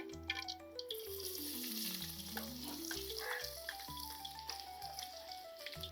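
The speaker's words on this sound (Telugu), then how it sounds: "ఇవి ఉల్లిపాయ కానీ బాగా వేపుకోవాలి దోరగా" Three medium-size, thinly sliced onions fry with bay leaves in hot peanut oil for a green mango boti curry, a soft sizzle partly masked by gliding musical tones.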